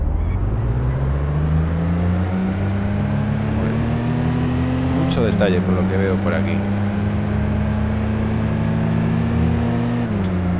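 A Dacia Logan's engine drones steadily in the VDrift racing simulator, holding a constant pitch that dips briefly mid-race, while someone talks over it.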